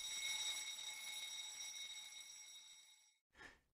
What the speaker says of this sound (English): This will cause the alarm to sound in the engine room and engine control room.